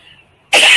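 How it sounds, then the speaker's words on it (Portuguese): A woman gives one sharp, loud cough right up close after a brief quiet moment, a sudden burst with nothing else around it. "Vento demais me causa tosse."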